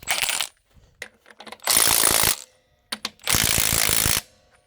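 A Milwaukee M12 FIWF12 stubby impact wrench works on a big wheel nut, hammering out three loud, close bursts separated by brief clicks and rattles, the last two bursts longest.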